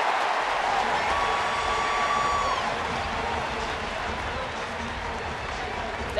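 A baseball stadium crowd reacts to an odd play during a Dodgers at Padres game, a loud, dense roar of many voices that holds steady and swells, with commentators talking over it.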